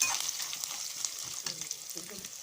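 Curry leaves and coriander sizzle and crackle in hot oil with ginger during tamarind rice preparation, a steady close frying hiss with occasional stirring clinks, no voices.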